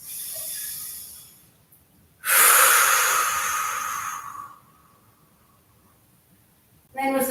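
A slow, deep breath during a yoga session, a long airy exhale rising suddenly and fading over a couple of seconds, close to the microphone, with softer breathing before it and a voice starting at the end.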